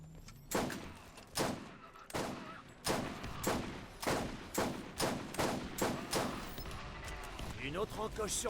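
Borderlands video game gunfire: a steady series of about a dozen loud, evenly spaced single shots, each sharp report followed by a short tail, with quiet talk in between.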